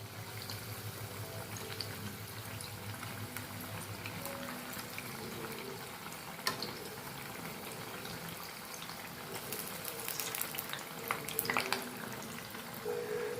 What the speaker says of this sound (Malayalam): ഒരു ക്യാരറ്റ് ബജി ഒന്ന് തിരിച്ചിടാം